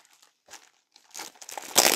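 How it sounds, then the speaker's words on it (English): A plastic bag from a Diamond Art Club painting kit crinkles close by in sporadic rustling bursts that build to a loud, dense crackle at the end. "So it always comes in a plastic bag that says Diamond Art Club"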